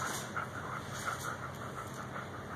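Puppies pant softly at close range with quick, even breaths and a faint whimper, quiet in a calm indoor setting.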